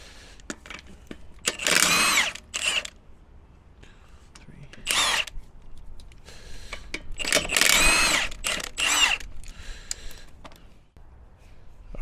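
An impact tool spins lug nuts off a wheel of a Ford F450 with a 6.7 Powerstroke, several short loud bursts of whirring separated by pauses, close by.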